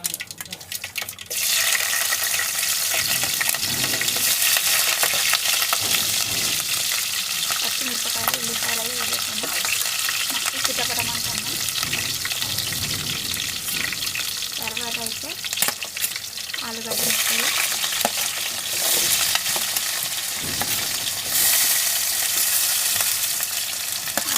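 Carrot pieces and curry leaves fry in a hot pan with a steady, loud sizzle and occasional stirring scrapes, continuous throughout.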